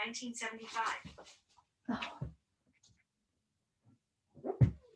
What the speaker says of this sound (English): Hold on, I got a whiny dog.